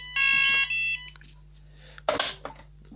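A fire alarm panel under test gives a few sharp electronic beeps, followed by clicks and handling noise over a low steady hum.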